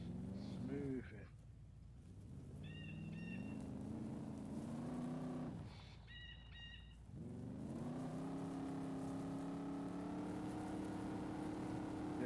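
A Range Rover in the DayZ video game drives with a steady engine drone that rises and falls as it revs over rough ground, with a couple of brief dips, and a voice speaks over it.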